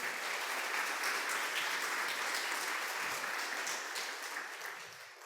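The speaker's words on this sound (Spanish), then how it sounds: "dale un aplauso al Señor, por favor." A church congregation claps together in a dense, sustained wash of applause that fades slightly near the end, with no speech heard.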